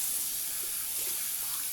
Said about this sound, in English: I'm just going to take water and splash my face